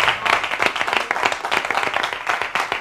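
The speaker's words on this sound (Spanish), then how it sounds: "Parece franco el aplauso" A studio audience on a televised open-debate program breaks into steady, dense applause, many hands clapping close and loud for a few seconds with no voices over it.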